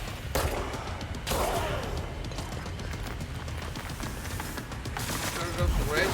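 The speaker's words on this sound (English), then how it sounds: "Who else is shooting at me?" Rapid gunfire bursts in the video game Control, dense and continuous, with sharper shots standing out over a loud, busy mix of in-game noise and a player talking.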